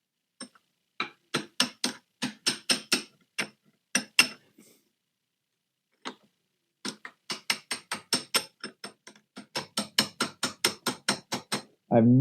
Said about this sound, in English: we'll get the actual hammer here. The small hammer, which makes it easier.